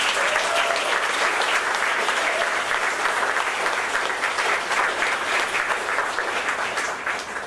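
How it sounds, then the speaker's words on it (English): Sustained audience applause for an honoree at a literary event, a steady broad roar of many hands clapping at moderate loudness that holds evenly and begins to ease toward the end. "Would you give her a huge round of applause?"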